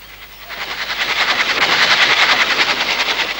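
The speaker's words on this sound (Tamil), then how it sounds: "வேற ரயில் வர சத்தம் கேக்குது" A train rumbles and clatters rhythmically as it approaches, growing steadily louder and nearer over a few seconds with no speech.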